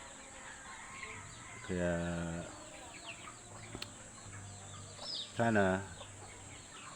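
Broiler chickens on a farm during hot weather let out two loud bursts of clucking close by, with quieter bird sounds between and a person speaking briefly.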